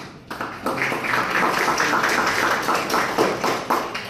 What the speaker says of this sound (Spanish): Pues vamos con un aplauso.